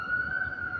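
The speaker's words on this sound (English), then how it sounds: "Ambulance go by." An ambulance siren passing, a single sustained high wail holding steady and fairly loud over a low background rumble.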